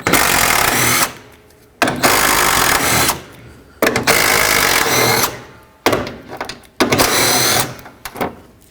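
A power tool driving out 10mm bolts on the front bumper cover of a 2007-2009 Saturn Aura, loud whirring bursts of about a second each, separated by short quiet gaps, close up.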